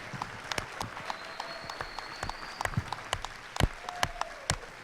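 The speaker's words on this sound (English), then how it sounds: "Give them a hand of applause." Sparse applause in a gym after a Lady Cards versus Tyler game, scattered individual claps over a roomy background with a whistle-like tone, fairly quiet and uneven.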